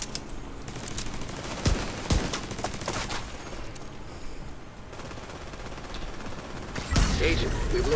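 Pistol shots sound in the shooter game The Division 2: a few sharp, separate cracks spread over eight seconds against a low background of in-game combat noise.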